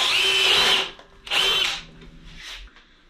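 A hammer drill driving a Spider 3 1/4 auger bit into wood whines in three bursts, two long and strong and a third short and weaker as it bogs down.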